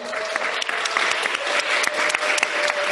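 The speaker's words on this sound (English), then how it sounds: "let's give a huge round of applause" A huge round of applause from an audience at a gathering of organizers, loud and close, with dense continuous clapping and occasional sharper claps standing out.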